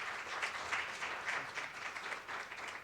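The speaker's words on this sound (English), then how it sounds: "Can we give them a round of applause for all that they do?" Steady round of applause from an audience at a school board meeting, many hands clapping in a dense, even wash that runs the whole stretch at moderate loudness with no talking over it.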